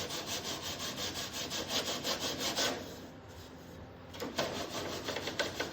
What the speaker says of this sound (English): Now I got to sand down where my scarf is.